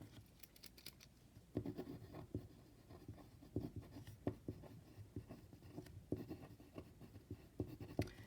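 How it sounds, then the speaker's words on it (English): Marker or chalk writing on a classroom board during a business math lecture on break-even point, a quiet run of scratchy strokes and taps in irregular bursts, close and alone without talk. "The break-even point, I'm going to write this down."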